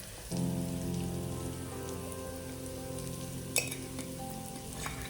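Dried shiitake mushrooms sizzle in a hot pan as crushed red pepper goes in, a soft continuous frying hiss with a single brief clink partway through.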